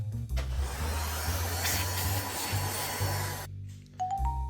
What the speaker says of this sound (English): Now would be a good time to clean all those unwanted hairs with your vacuum.